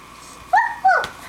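A young child imitates a dog barking, giving two short, bright vocal woofs in quick succession, close and fairly loud with quiet pauses around them.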